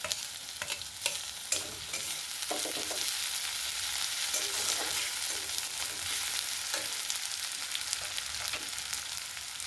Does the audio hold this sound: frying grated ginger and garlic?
yes